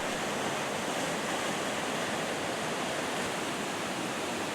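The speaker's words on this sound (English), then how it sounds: "It quickly becomes a raging river." The Rogue River runs as a raging torrent through volcanic rock, its rushing water forming a steady, dense roar that holds unbroken and loud from start to finish, with no voices.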